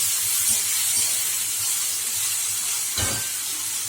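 Onion, tomato and ginger garlic paste sautéing in a pan for a prawn lunch dish, giving a steady close sizzle throughout with a brief louder burst of stirring or spattering near the end.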